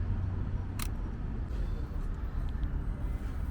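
Minolta X-300 film camera shutter set to a 1-second exposure outdoors at the National Gallery in Singapore: a single crisp click, then a fainter closing click about a second later, under a steady low city rumble.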